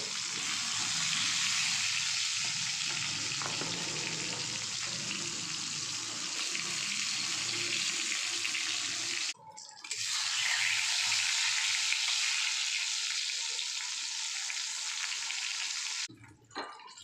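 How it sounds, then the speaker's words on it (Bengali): Large eggplant pieces fry in mustard oil with a strong continuous sizzle that cuts out briefly twice, alongside faint scraping of a spatula. "তো বন্ধুরা, এই বেগুনগুলো ভাজা হয়ে গেছে,"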